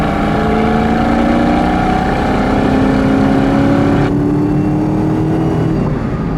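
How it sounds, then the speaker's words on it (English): A 2004 Mustang GT with a 4-speed automatic kicks down and pulls hard, its engine note climbing steadily under load, loud and close from inside the car, then shifting near the end as the pitch drops back. "The sound of that transmission"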